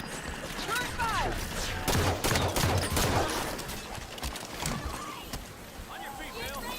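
Turret fire crackles through a firefight in the Halo 5: Guardians video game, with rapid bursts of shots, thumping impacts and battle noise layered under shouted voices over the whole stretch.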